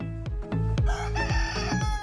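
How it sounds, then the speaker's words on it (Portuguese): A rooster crows loudly and close, a long cock-a-doodle-doo call at morning time with no voices over it. "o Galo está cantando"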